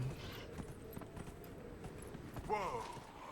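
Rhythmic clip-clop of horse hooves trotting steadily in the video game Dragon Age: Inquisition, with a brief whinny-like tonal sound near the end, all fairly quiet.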